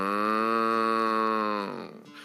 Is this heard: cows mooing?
yes